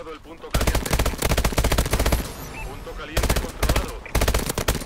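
Repeated loud bursts of automatic gunfire in Call of Duty: Advanced Warfare, rapid rattling volleys separated by short pauses, close and dominant.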